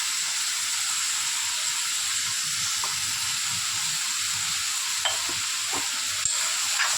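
Onion and tomato sautéing in a pan with salt and turmeric for a fish curry, a loud, steady hissing sizzle with a few faint stirring scrapes and clinks near the end.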